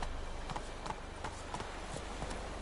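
Roach, the horse in The Witcher III, trots along with steady hoof clip-clops, evenly spaced and fairly close, carrying on without any voices.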